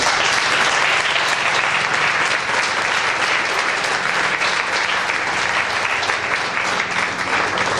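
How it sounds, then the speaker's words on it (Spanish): Loud, sustained clapping from a church congregation fills the whole stretch, dense and steady with a faint murmur of voices mixed in. "Den un aplauso al Señor por eso."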